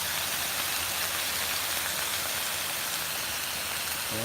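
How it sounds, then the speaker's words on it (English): Herbed pork chops sizzle on a Blackstone flat top griddle: a loud, unbroken hiss like heavy rain, steady and close throughout, with no voices. "Listen to that sizzling sound."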